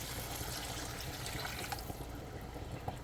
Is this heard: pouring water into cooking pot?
yes